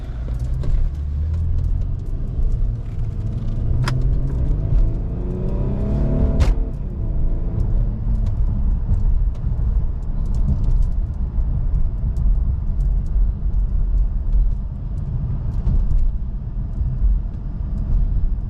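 An Infiniti M37X drives along on a test drive after a brake installation, with a steady low engine rumble and road noise, briefly revving up before settling into a continuous cruise.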